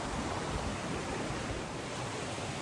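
Rough Creek runs along a mountain trail, its flowing water a steady, soft broadband rush that stays even throughout with no voices.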